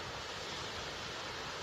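A tall waterfall pouring into a deep gorge at the base of Mount Hood, a steady broadband roar of falling water, constant and fairly loud with no voices.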